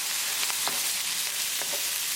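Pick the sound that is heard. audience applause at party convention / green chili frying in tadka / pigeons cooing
green chili frying in tadka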